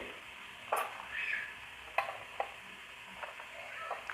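Small pieces of ginger and garlic frying in a pan for an aloo matar curry, a faint, soft sizzle with a few light stirring clicks and scrapes at intervals, close and quiet.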